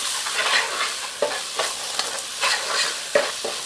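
Ground turmeric, coriander, chili and cumin powders stirred and frying in a pan for a vegetable curry, with a steady sizzle broken by repeated scraping stirs, close and fairly loud, no talking.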